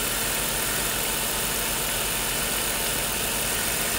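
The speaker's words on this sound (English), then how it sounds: "When the compressor engages and disengages, you can see it going up and down." A 2001 Ford Taurus engine idles steadily with the A/C compressor engaging and disengaging, a constant close mechanical hum and rumble filling the whole stretch with no talk.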